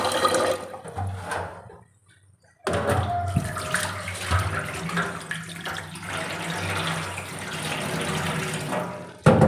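Water gushes from a tap for washing clothes, a loud close splashing stream that stops briefly near the start, then returns and runs steadily with some clattering before ending abruptly.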